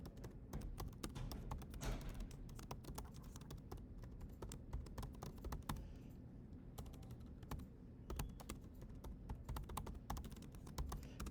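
Computer keyboard keys clatter in a steady, irregular stream of close taps as code is typed, with brief pauses and no talking.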